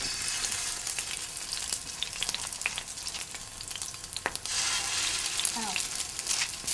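Ground lamb kebabs brushed with a pomegranate molasses glaze sizzle steadily in a hot pan, a close, continuous crackle dotted with small pops and faint clicks as they are moved around.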